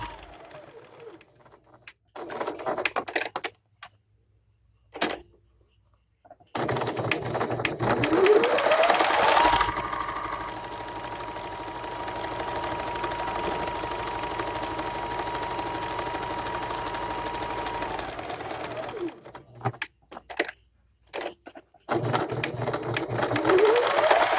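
Sewing machine running a 1/8-inch seam around the edge of a cloth face mask, a long steady mechanical whir of close stitching punctuated by pauses and short starts with fabric handling.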